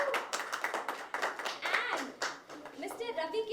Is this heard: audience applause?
yes